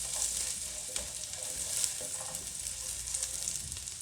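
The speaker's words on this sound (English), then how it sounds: "I'm going to add the carrot first. So I'm going to fry them for a few minutes" Carrots frying in melted butter in a pan give a steady, close sizzle with soft crackling and faint stirring scrapes throughout.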